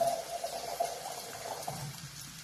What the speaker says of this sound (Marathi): याच्यामध्ये शिजण्यासाठी पाणी घालायचं